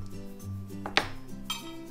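Blocks of melt-and-pour soap are set into a microwave-safe dish, giving a few soft knocks and one sharper clink of the pieces landing, close and brief in a quiet room.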